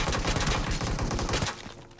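Rapid bursts of gunfire from a battle-royale style video game firefight, dense overlapping shots rattling loudly and continuously before tapering off slightly at the end, with no talk over it.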